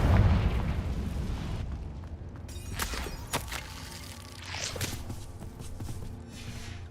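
Confringo fire spell blasting in the game Hogwarts Legacy: a loud, rumbling explosion opens the moment, followed by a few sharper bursts and crackles as the blast settles, with ambient game noise underneath.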